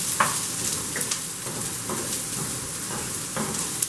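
Onions frying in oil in a pan give a steady close sizzle with occasional stirring scrapes, continuous and fairly loud with no talk.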